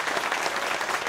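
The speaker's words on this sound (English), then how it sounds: "Please give a warm round of applause to candidate Debra Medina." A Republican gathering in Dallas applauds candidate Debra Medina with steady, dense clapping from a room full of people, moderately loud and without a break.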